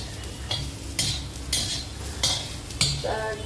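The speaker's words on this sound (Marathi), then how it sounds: "कांदा आपल्याला लालसर रंगावर भाजून घ्यायचा आहे" Onion fries in oil in an iron pan while being stirred for dhaba-style shev bhaji, with a soft sizzle under repeated scraping spatula strokes, close and moderately loud, no talk.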